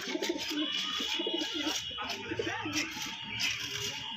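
A male Kalshira pigeon coos softly and close by, a low repeated murmur over faint background noise.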